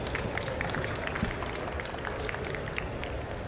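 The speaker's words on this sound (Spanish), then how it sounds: "Gracias por ese caluroso aplauso de tan grande audiencia que tenemos esta noche" Audience applause at an entrepreneurs' event, a dense, steady patter of many hands clapping continuously at moderate loudness for a few seconds.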